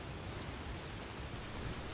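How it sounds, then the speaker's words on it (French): Steady, dense rain hiss in Skyrim, faint and continuous with no other sounds. "J'en peux plus de la pluie, hein. Il fait que pleuvoir."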